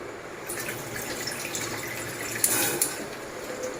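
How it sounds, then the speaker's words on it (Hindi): Water flowing steadily into an empty bottle during cleaning of an SD 501 machine, a continuous close trickle with a brief louder splash partway through. "पानी को इसके अंदर फ्लो होने देना है।"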